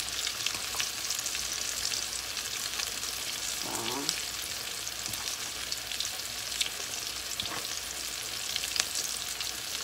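Pork chops coated in cassava flour fry in hot oil with a steady, dense sizzle, broken by a brief scraping stir near the middle and a few louder pops.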